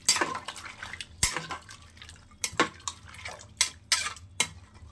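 A spoon stirs cumin-spiced ingredients for pea dal inside a pressure-cooker pot, with repeated close metallic scrapes and clanks against the metal over a wet, shuffling stir.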